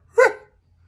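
A human voice imitates a dog's bark with a single short, gruff "ruh" sound, close and clear, followed by quiet.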